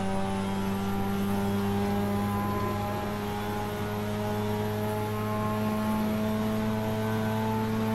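Mazda RX7 rotary engine in Assetto Corsa, lapping the Nurburgring: a loud, steady, buzzing drone holding near-constant revs with layered harmonics throughout, no voices.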